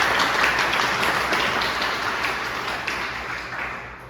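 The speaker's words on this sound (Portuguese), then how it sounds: "Dá uma salva de palmas aqui para a Michele." Audience applause at a talk, a dense patter of many hands that holds strong and then gradually tapers off.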